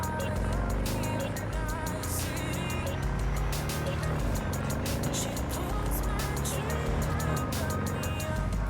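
A car drives through the city in Cyberpunk 2077, its engine rumbling steadily and continuously under dense, clicking and shifting game sounds and background music, without pause.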